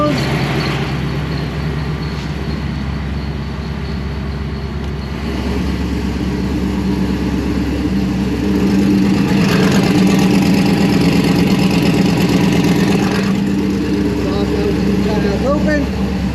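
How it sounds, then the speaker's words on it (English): A car engine idles steadily with its Kindig-It exhaust cutouts closed, a low, fairly quiet rumble held close by, swelling slightly louder partway through. "Exhaust cutouts are closed."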